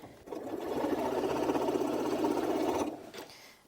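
A Janome Memory Craft 9480QCP sewing machine stitches through eight thick fabric layers in a close, steady mechanical whir lasting a few seconds, then stops, with no one speaking.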